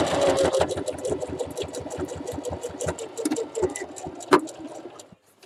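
Sewing machine stitching fabric for an Easter basket, a steady rapid run of needle clatter for about five seconds that slows and stops, heard alone without talk.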